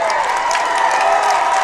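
A big crowd at a high school football game between rivals on a hot August night in Shelbyville cheers and applauds continuously, a steady dense roar with scattered claps throughout.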